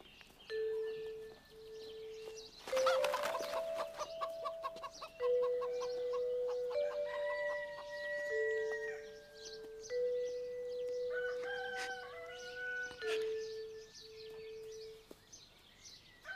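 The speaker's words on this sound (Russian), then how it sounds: "Да я это кур кормлю." Farmyard chickens clucking in short bursts and a rooster crowing several times, fairly near and clear, as the birds are fed in a rural Russian village yard.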